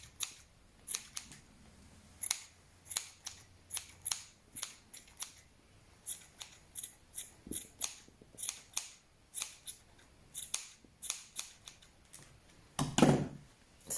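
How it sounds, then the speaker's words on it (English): Scissors snip repeatedly while trimming the long tails off a red yarn pom-pom, giving a steady run of crisp, close cuts at a quick irregular rhythm with no talking. "you can take your scissors and you can trim any long tails that are on it"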